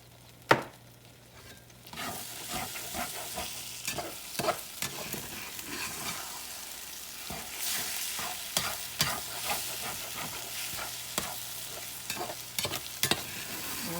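Eggs with black pepper and salt sizzle and fry in an iron skillet while a utensil stirs and scrapes with repeated clicks and knocks against the pan, steady and close throughout.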